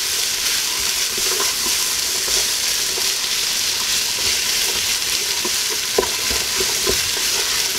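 Potatoes fry and are stirred in a pot for a soup, with a steady loud sizzle and repeated scraping stirs throughout, no voices.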